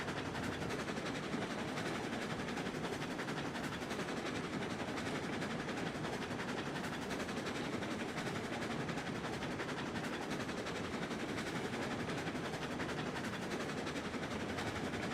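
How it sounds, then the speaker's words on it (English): A cordwood train in a railway-building video game rolls along its rails with a steady, dense rumble and clatter, continuous and fairly faint throughout. "What, are you taking the cordwood train?"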